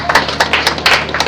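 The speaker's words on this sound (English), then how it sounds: "let's give him a round of applause" Brief burst of clapping from the audience at a national conference and induction ceremony, uneven hand claps rising and falling over about a second, with no talking.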